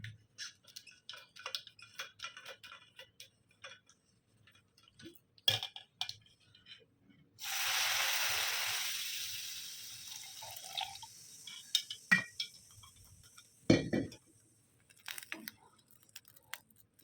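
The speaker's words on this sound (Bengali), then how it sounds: "ভাজা হয়ে গেছে, এবার জল দিয়ে দেবো।" Water is poured into a pan of fried dal and oats with ginger and cumin paste, a broad hissing rush of a few seconds amid scattered clinks and small kitchen noises.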